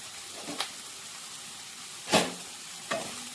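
A spatula stirs a frying spinach paneer curry base in a pan, giving three distinct scrapes over a soft, constant sizzle.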